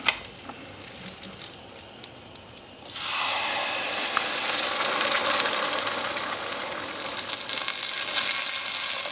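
7-Up pop splashes into melted butter in a pan, and a loud, bright sizzle suddenly bursts in after a quiet simmering start, then hisses steadily to the end.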